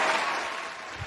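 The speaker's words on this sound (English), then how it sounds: "listen to that crowd, Neil." A studio crowd applauds loudly and steadily, a dense wash of clapping close around the listener with no talking above it.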